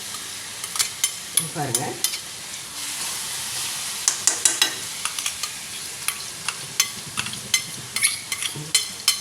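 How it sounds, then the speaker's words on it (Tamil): Garlic sautés and sizzles in a hot pan with a steady hiss, while a spoon scrapes and clatters against the metal in irregular strokes. Someone speaks briefly over the cooking noise. "பூண்டு போட்டுருங்களா? இப்போ வந்து நல்லா வதங்கணும்."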